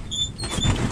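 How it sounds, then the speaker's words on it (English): A Kubota BX tractor cab door swinging shut and latching, a brief squeaky slide followed by a soft, dull thud, close by with no speech. "To close the door, you just pull the door closed and you just release this latch and it locks it right in place."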